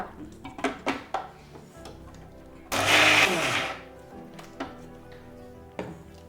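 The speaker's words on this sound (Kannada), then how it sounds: "ಇದಿಷ್ಟನ್ನ ಫಸ್ಟು ಗ್ರೈಂಡ್ ಮಾಡ್ಕೊಂಬಿಡೋಣ" A kitchen mixer grinder loaded with chana dal, coconut and onion whirs in one short, loud burst of about a second, set between scattered knocks and clatter of the jar and utensils.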